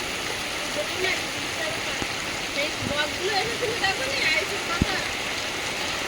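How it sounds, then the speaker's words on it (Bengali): Heavy storm rain falls as a dense, steady hiss and patter outdoors, with faint birdsong-like chirps and a few sharp knocks, while voices talk intermittently over it. "তুফান বৃষ্টি এসে গেল"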